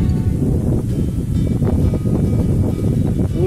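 Strong wind at the Puncak Skyland hilltop paragliding viewpoint in Wuluhan, Jember, a loud steady roar buffeting the microphone without a break.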